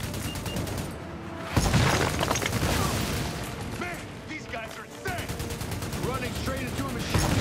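Dense bursts of automatic gunfire and rapid shots from the video game Army of Two: The Devil's Cartel, loud and nearly continuous with booming impacts, while players talk over the action.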